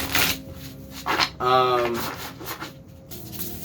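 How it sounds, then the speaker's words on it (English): Tarot cards are shuffled in the hands, soft riffling and rubbing bursts with a brief papery flutter in the middle, close and fairly quiet, with a voice speaking intermittently over them. "So let me keep shuffling because there's a lot I need to talk about with it."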